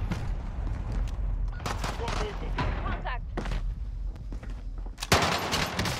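Uzi gunfire in a Call of Duty Warzone gulag fight: sharp bursts of shots in uneven clusters, with a loud blast near the end, mixed with voices talking over the action.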